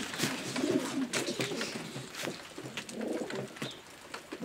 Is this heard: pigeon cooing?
yes